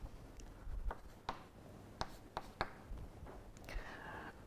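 Pen or chalk writing out a math derivation, a scatter of soft scratches and sharp taps at irregular intervals, close and quiet with no speech.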